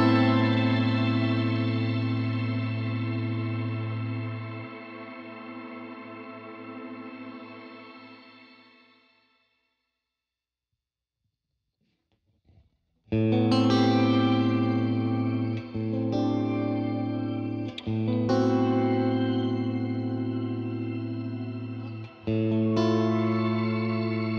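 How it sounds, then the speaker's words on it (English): Guitar notes ring through a Seraphim Shimmer v2 reverb pedal, lush and shimmering with long sustained tails, fading to silence before bright chords return, swelling and lingering. "The depth control controls the length of the reverb tail"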